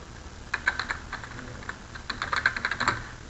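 A run of quick, light clicks from a computer mouse and keyboard while spreadsheet cells are selected, close and fairly faint, in uneven bursts with no talking.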